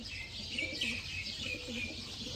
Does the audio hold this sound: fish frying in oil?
no